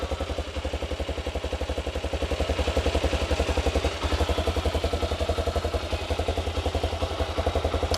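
Musstang GT250 motorcycle with a 171FMM engine running after a valve adjustment, a steady rapid single-cylinder thump with mechanical clatter, close and even throughout with no talk.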